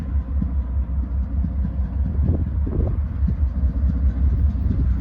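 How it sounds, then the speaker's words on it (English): Norfolk Southern Triple Crown RoadRailer train NS 256, led by locomotive 9811, rolls past trackside in Decatur, Illinois, a steady heavy low rumble of wheels and cars with occasional clanks, continuous throughout. "This will be NS 256, a Triple Crown road railer."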